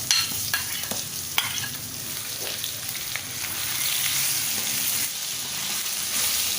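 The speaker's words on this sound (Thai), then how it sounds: "เราก็ผัดให้หมูพอสลดนะคะ" Pork ribs stir-frying in a pan with pounded garlic and chili, a steady close sizzle broken by scraping stirs and clacks of the utensil, with no talking.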